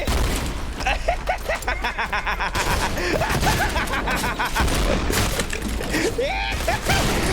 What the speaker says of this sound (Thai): จับตัวประกันกดระเบิดแล้วกระโดดหนี